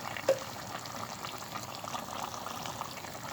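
Chicken adobo with vinegar simmers in a pot, giving a faint, steady bubbling and sizzling hiss, with one small clink near the start.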